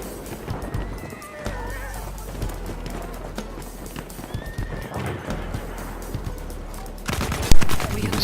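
A horse in the battlefield video game Battlefield 1 whinnies and gallops with rapid clip-clopping hooves, loud and close, amid bursts of machine-gun fire and combat noise.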